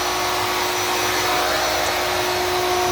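A CNC router cutting an arcade cabinet template as it withdraws its bit, giving a steady, loud motor whine with a sharp constant tone and broad hiss throughout, alone and without talk.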